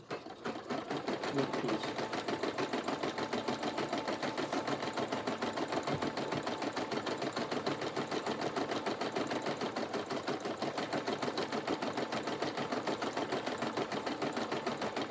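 An embroidery sewing machine stitches on toilet paper, its needle hammering in a fast, even rhythm close up after a quick start, with a brief word spoken.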